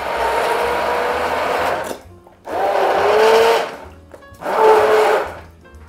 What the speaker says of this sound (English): I like using a hand blender, the immersion blender, to just kind of whiz this up.